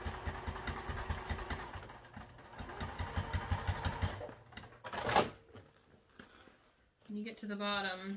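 A sewing machine stitches down the side of a piece, its rapid mechanical whir running in bursts before stopping, with a voice talking over it and afterward.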